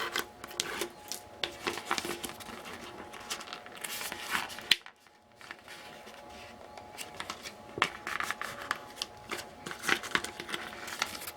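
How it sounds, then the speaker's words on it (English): Backing being peeled off score tape, close and quiet, with a run of crinkly, papery crackles and small tearing sounds, a brief pause midway, then more light rustling and peeling, no talking. "Remove the score tape backing."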